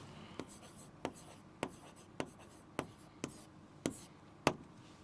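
Pen writing on paper during a physics lesson, a series of sharp, quiet strokes and taps spaced roughly every half second, close and isolated with no talk over them.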